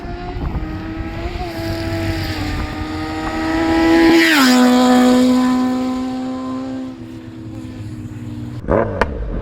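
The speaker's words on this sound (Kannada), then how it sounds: "ರಾಜ್ ಗಾಡಿ ಎತ್ಕೊಂಡು ಸಿದ್ದು ಫುಲ್ ಫ್ಲೈ ಬೈ ಕೊಡ್ತಾವನೆ." A Yamaha R1 crossplane superbike makes a full-throttle fly-by, its rough-edged engine note climbing loudly as it nears, dropping in pitch as it passes close, then fading before a short sharp revving burst at the end.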